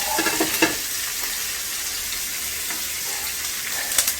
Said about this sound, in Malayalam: നമ്മൾ ഇഞ്ചി, വെളുത്തുള്ളി, പച്ചമുളക് ഇട്ട് വഴറ്റിയെടുക്കാൻ പോകണം